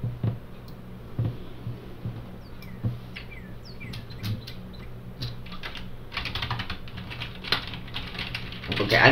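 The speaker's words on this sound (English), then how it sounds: "I'm just pressing random keys. Well, it's less pressing, more just me holding my finger down and moving it across the keyboard." Fingers press and slide across a computer keyboard, producing soft scattered clicks and rubbing taps at uneven intervals, with faint bird chirps in the background.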